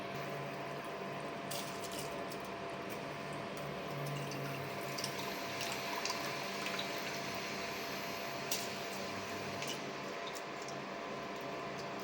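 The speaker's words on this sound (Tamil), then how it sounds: "இது இப்போ கொதி வந்துடுச்சு" Water for beef biryani bubbles at a rolling boil in a cooking pot, a steady close hiss and gurgle with occasional sharper pops and clinks.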